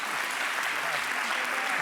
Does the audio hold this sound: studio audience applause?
yes